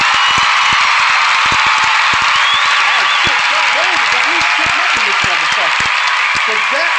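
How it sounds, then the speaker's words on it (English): Studio audience applauding a guest on a talk show, steady clapping throughout while low voices and murmurs run underneath. "Once again, round of applause to her."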